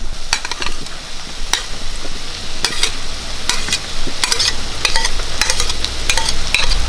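Crushed kanthari chilies and shallots frying in hot oil for a Kerala ivy gourd stir-fry, with a steady loud sizzle and repeated scraping stirs of a spoon against the pan, no voices.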